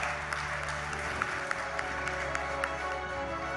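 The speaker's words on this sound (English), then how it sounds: "Can we have a loud round of applause, ladies and gentlemen" A large audience applauds Olympic gold medalist Neeraj Chopra at an awards event, a continuous wash of clapping heard from a distance under a low steady hum, with a few sharper claps standing out.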